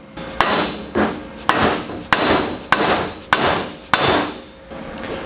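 A hammer strikes overly strong weld tacks to break them apart on a turbo crossover tube, about eight sharp metallic blows at a steady rhythm, each ringing briefly before the next, loud and close with no talk.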